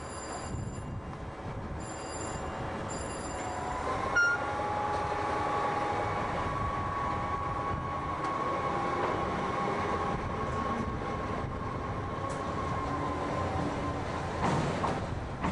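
A DB V60 diesel shunting locomotive moves through Halle main station in mid-2015, with a steady rolling rumble, a sustained engine drone and occasional faint squeals, sounding fairly close and continuous.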